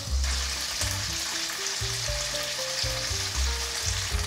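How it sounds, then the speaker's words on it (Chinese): Marinated dried tofu pan-frying in hot oil, a steady close sizzle running throughout with a low, pulsing bubbling beneath it and no voices. "豆干腌好了，把它放进来煎。"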